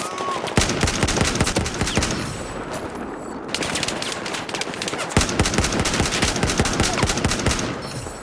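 Rapid bursts of automatic gunfire in Battlefield 4 pelt the player, dense overlapping shots rattling steadily throughout with a brief lull midway, loud and close.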